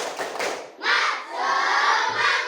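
A primary school class in an Indonesian classroom performs a spirit clap chant, with a burst of rhythmic clapping followed by loud, sustained children's shouting, close and energetic.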